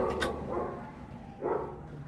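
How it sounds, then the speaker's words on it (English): Dogs barking in a short burst, a sharp bark near the start and another a second later, moderately loud and close over a low background hum. "My dogs are acting crazy."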